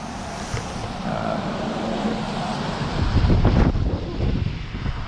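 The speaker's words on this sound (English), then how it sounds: "It's pretty windy." Wind gusting across an exposed mountain overlook on the Blue Ridge Parkway, a steady broadband roar that swells louder about midway with low buffeting against the microphone, with no voices present.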